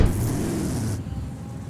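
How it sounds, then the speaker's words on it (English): A modified, non-stock V8 in a Mercedes E55 AMG wagon drives past with a loud, full engine rumble and a bright hiss that cuts off about halfway through, followed by a quieter steady drone. "And that V8 never gets old."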